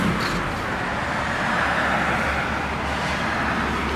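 Cars passing on the road outside a seaside village apartment, a steady broadband traffic wash that swells slightly mid-way, with no talking.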